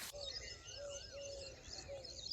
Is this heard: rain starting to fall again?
no